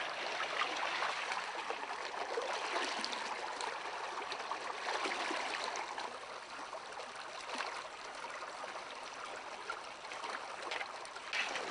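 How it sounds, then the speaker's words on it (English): Cold stream water swirls and splashes steadily as a mineral sample is panned for gold in the Klondike, a continuous close washing sound with no talking. "we'll just pan her down and see if we can get any colors out of her"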